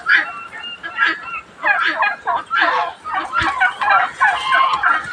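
Guinea fowl give loud, close, repetitive rasping cackles in quick rhythmic bursts on a farm during breeding season, with the calls overlapping almost continuously.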